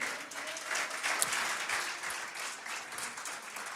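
Church congregation applauding during a Spanish-language sermon at Iglesia Vida Nueva, a steady wash of clapping heard from a distance at moderate volume, continuous throughout with no talk over it.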